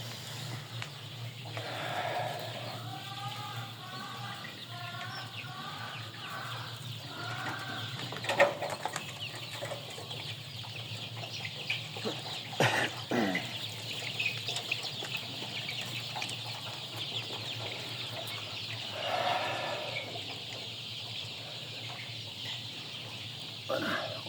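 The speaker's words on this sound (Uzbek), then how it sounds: "Mana oqini xo'rozi mana shu." Chickens and roosters, including white roosters, at a poultry sale in Kokand, Uzbekistan, cluck and call in repeated bursts over steady farmyard background noise, with brief wing flaps and no talk.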